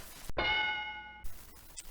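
A single bright bell ding in a poker game rings out and sustains with a clear metallic tone, then is cut off, with faint clicks around it.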